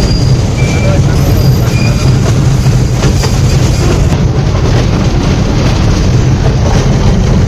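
Loud, continuous rumble of riding aboard a moving train at the Integral Coach Factory (ICF) Rail Museum in Chennai, a steady roar with faint rattling and occasional high squeals, people talking over it.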